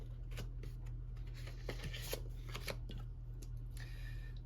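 Paper cash bills are counted by hand into envelopes, producing quiet, close-up flicking and rustling in quick irregular bursts with no voices.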